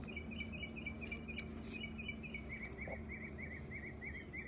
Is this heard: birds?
yes